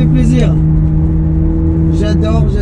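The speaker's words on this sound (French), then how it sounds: "J'adore ces McLaren." A McLaren 675LT supercar's engine drones heavily and steadily from inside the cabin, a loud continuous hum that barely changes across the moment.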